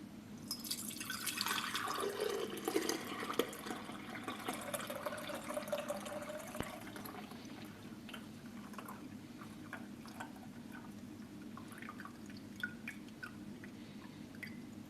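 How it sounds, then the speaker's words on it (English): A liquid garden amendment is poured through a funnel and sieve, giving a steady splashing and gurgling pour for the first few seconds, then softer trickling and scattered drips that continue to the end. "Use a funnel of sorts and a sieve, and I'm simply going to pour the liquid through."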